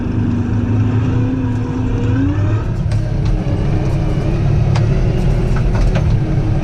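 A New Holland T4.70s tractor working in a field, its diesel engine rumbling steadily and shifting pitch as it slows, with faint clicks and rattles over the continuous drone.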